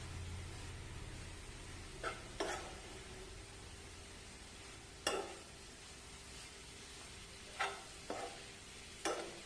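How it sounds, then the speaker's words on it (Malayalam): Spinach, jackfruit seeds and coconut paste are stirred together in a pan, with faint low sizzling and a handful of separate spoon scrapes and knocks spread across the stretch, no talk. "ചീരയും ചക്കക്കുരും അരപ്പുമായി നല്ലതുപോലെ ഇളക്കി യോജിപ്പിക്കുക"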